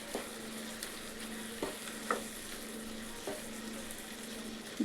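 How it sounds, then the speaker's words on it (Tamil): Steady sizzling of tomatoes sautéing in a pan, with occasional soft scrapes and stirs from a utensil; no voices. "இப்போ தக்காளி நல்லா சூடில் வதங்கட்டும்"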